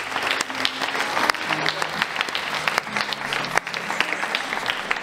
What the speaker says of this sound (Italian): a cui farei un fortissimo applauso